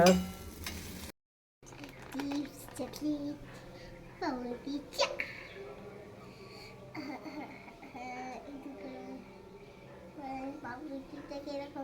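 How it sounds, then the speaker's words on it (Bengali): Oil sizzles and spatters in a home frying pan, a steady crackle with occasional pops running beneath the chatter of a child and an adult. "সরে যাও তেল ছিটকাবে সরে যাও"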